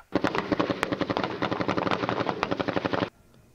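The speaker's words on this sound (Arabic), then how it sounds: "صوت إطلاق الذخيرة الحية في أرجاء الخيام والمناطق الرعوية" Rapid bursts of live automatic gunfire crack out during Israeli military training near tents and grazing land in the northern Jordan Valley, a loud close string of repeated shots lasting about three seconds before cutting off abruptly.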